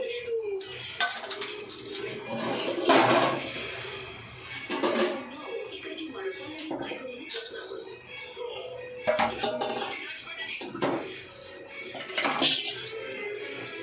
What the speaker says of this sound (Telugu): మనకి గిన్నె సెట్ అవ్వలేదు ఫ్రెండ్, గిన్నె మార్చేస్తాను.